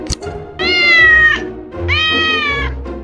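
Two long, loud cat meows, one after the other, close up with a pause between them.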